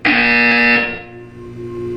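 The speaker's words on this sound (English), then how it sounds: "You will hear a buzzer." A loud electronic buzzer in a Portal 2 video game test chamber, a single harsh tonal blast that sounds for under a second and then rings out and decays.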